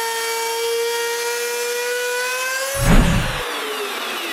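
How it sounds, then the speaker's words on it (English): A router cuts a mating edge profile into plywood, a high sustained whine with a bright, tonal edge and a short, louder burst of cutting midway. "I route the mating profile."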